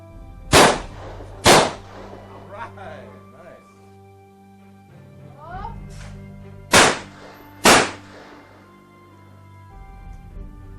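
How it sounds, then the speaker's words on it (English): Shotgun blasts at clay targets outdoors, four loud sharp shots in two closely spaced pairs, with a voice calling out between them. "what do you say we go do some more shooting?"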